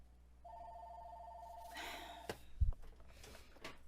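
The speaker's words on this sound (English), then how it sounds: "Phone was ringing." An indoor telephone rings with a steady electronic tone for about a second and a half. A sharp breath and some handling noise follow, and the room is otherwise quiet.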